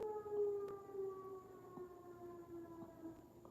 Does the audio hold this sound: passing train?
no